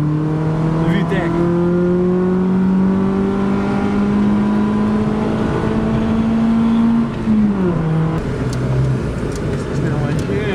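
A Honda engine in second gear revs hard into VTEC, a loud steady rising drone heard from inside the car, then dropping as the revs fall, with a person talking over it.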